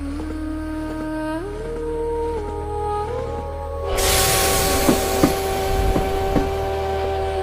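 A moving train in a story scene, heard as a steady mechanical drone with tonal hum, swelling into a louder rumbling rush with a few sharp knocks partway through, and no voices.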